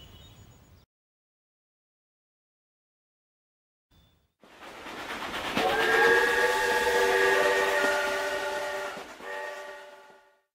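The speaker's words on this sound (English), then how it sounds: "City Mouse and Country Mouse take a train to the city." A train's steam whistle sounds after a short silence, a loud sustained multi-tone blast that swells and holds for several seconds over rumbling rail noise, then cuts off.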